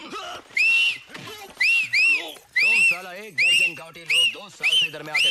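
A whistle blown in short, shrill repeated bursts, about eight toots in quick succession, loud and close, with voices shouting in between.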